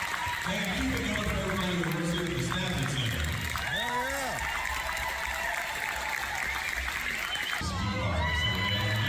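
Concert crowd at a show in Houston cheering and shouting, loud and continuous throughout, with music and voices mixed in and a brief drop near the end before the roar resumes.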